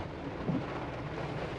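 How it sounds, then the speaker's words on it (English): Steady rain falls on a gray, rainy day at Orange Beach, Alabama, making an even, continuous hiss with no talk. "Rainy, rainy day."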